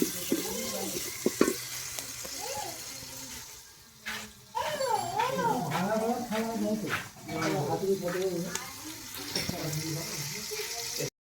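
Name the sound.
onion frying in refined oil on outdoor stove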